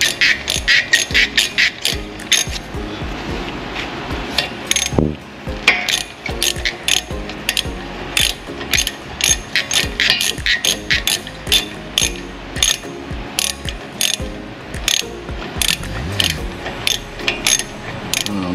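A ratchet wrench clicks rapidly and loudly, close up, in repeated bursts while tightening a bolt on the front brakes of an Infiniti G37, with steady metallic pawl ticking throughout.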